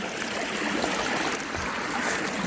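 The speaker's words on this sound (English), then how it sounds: "I've had to cross this stream a couple times" Small stream, a creek tributary crossed on a hiking trail, rushing and trickling steadily over stones close by, a continuous bright wash of water with no voices.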